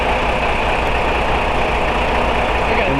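Semi-truck tractor diesel engine rumbling loudly and steadily at close range as it pulls slowly away from a trailer, a constant idling drone with no voices.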